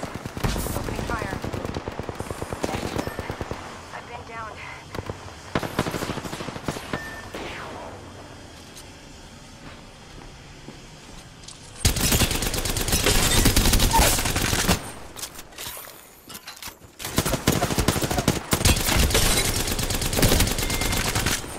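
Gunfire in the video game Apex Legends: sustained automatic bursts and fusillades, loud and close, with short pauses between volleys and game voice lines and other sounds underneath in the quieter stretches.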